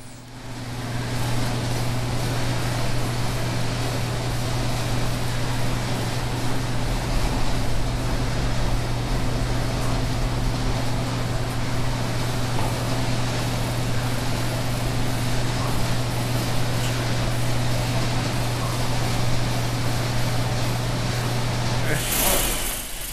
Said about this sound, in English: This steam engine is from the early 1900s. It powers most of the equipment inside of the sorghum mill.